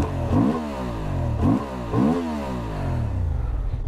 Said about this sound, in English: The engine in this bike is also very, very nice.